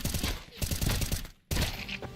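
Rapid gunfire spraying in a competitive video game match, dense bursts of shots crackling close and loud, a brief pause, then a second burst firing again.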